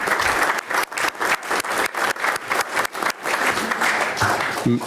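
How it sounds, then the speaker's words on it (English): Applause from a crowd at a city commission meeting, steady clapping with a few louder swells, fairly close and sustained throughout. "let's give them all another round of applause for all their work"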